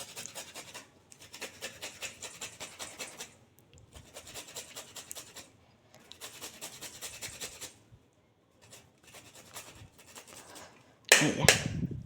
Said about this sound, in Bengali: এবার আমি আদাটা একটু ঘষে নেব।